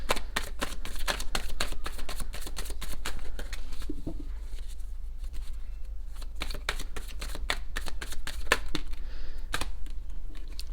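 Tarot cards being shuffled and drawn by hand, a steady run of close, crisp riffling flicks and snaps continuing throughout with no talking.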